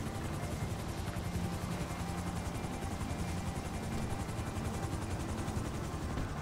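Steady, dense rotor thrum of a helicopter flown in a snowy video game, a constant loud drone with fast chopping pulses and no talk over it.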